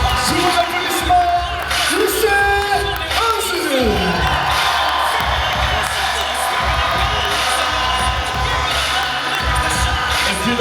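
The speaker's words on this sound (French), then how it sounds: "Sous vos applaudissements" Crowd at a jiu-jitsu gala cheering and clapping, a loud continuous roar with whoops, while music and an announcer's amplified voice sound over it early on.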